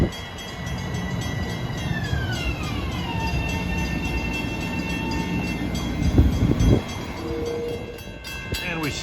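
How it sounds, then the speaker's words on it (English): Long Island Rail Road Bombardier M7 electric train arriving westbound at Farmingdale station, a continuous rumbling roar of wheels and motors with gliding tonal whines, rising squeals and clatter near the end, close by. "arriving westbound into the station at Farmingdale is train 1965 en route from Ronkonkoma to Penn Station with a set of Bombardier"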